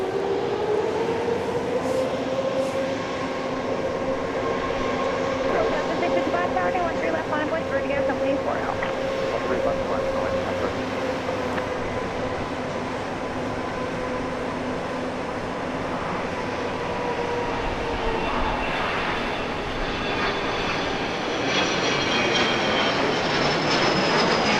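A Spirit airliner taking off from Dallas Love Field sends up a loud jet engine roar with a rising whine that swells and then slowly fades as it climbs away, with people talking over it.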